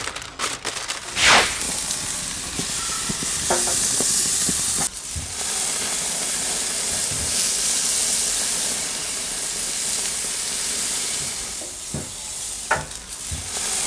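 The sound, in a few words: beef searing and sizzling on a grill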